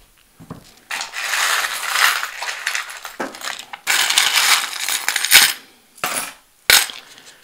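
Small divination charms are shaken and mixed by hand, producing several loud, jangly rattling bursts of clattering metal separated by short silences, the last few brief and sharp.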